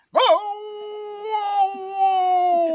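A human voice imitates a dog howling in the cold, one long sustained wavering howl that starts with a sharp rise and then holds steady and close for nearly three seconds.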